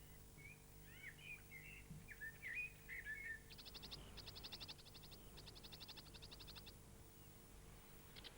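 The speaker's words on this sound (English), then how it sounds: "The sedge warbler's song has been studied for over a decade by Dr. Clive Catchpole." A sedge warbler sings a lively, varied song: scratchy chattering phrases followed by rapid repeated trilling bursts, close and clear over a faint low hum.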